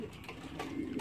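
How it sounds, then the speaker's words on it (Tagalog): Pigeons cooing softly at close range, short low murmuring calls repeated in a quick run. "ang nawawala dito, yung kalapati natin na malaki yung mata, si Big Eye."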